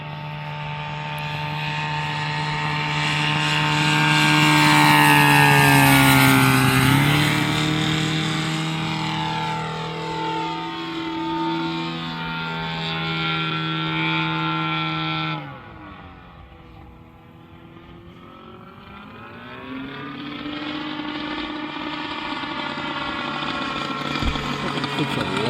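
A DLE-222 gas engine on a ROBART P-47 RC model plane drones loudly and steadily, its pitch swelling, then dropping sharply to a rougher idle before rising again, missing on one cylinder.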